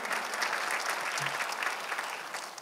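A church congregation claps in praise during a Korean sermon, a continuous, even wash of many hands sustained throughout at moderate level.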